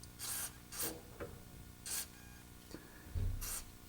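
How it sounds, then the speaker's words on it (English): Short hissing bursts from a spray can as lubricant is sprayed into the sway bar bushings of a Honda Civic, four or five quick sprays close to the mic with faint handling noises between them. "Let's get this sprayed inside those bushings."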